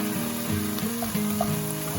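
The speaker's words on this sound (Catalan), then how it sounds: "Aquí tirarem els fredolics, només saltejat, una mica de sal, pebre" Wild fredolic mushrooms and onion sautéing in bacon fat in a pan, a steady close sizzle with a low hum running underneath throughout.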